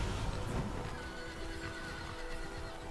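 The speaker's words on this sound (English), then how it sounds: "We hear the horses in the back, signifying the races." Horses neighing and whinnying in a video game, with hoof clip-clop, playing steadily and fairly loud throughout amid dense game background sound.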